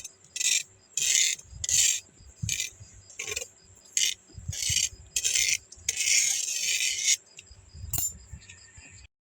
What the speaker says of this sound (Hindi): यहाँ पे मैं राई भून रही हूँ।